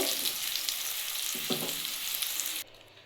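Potatoes fry in hot oil in a pan, a steady close sizzle with a brief stirring clatter midway, cutting off abruptly near the end.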